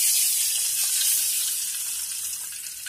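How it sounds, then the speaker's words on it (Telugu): Water poured into a pan of oil for Maggi noodles on a home stove, the oil not yet very hot, gives a steady loud sizzling hiss that slowly fades over three seconds. "మనము మ్యాగీకి సరిపడా నీళ్ళు పోసేస్తున్నాం"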